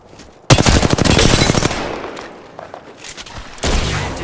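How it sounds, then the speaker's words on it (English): Gunfire in Apex Legends, a loud burst of rapid shots that rings out, fades into lighter scattered fire, then resumes sharply near the end. "Taking fire."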